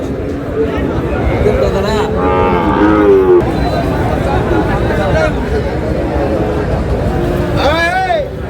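A 6 to 7 month old Sahiwal bull calf moos loudly at a Dhaka cattle market, several drawn-out calls rising over constant crowd chatter and nearby voices.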